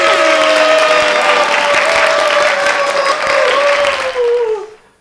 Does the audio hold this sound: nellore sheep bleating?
no